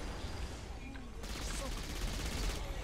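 SMG fire in the video game Saints Row IV, a dense sustained burst of rapid shots, loud and continuous across the whole stretch.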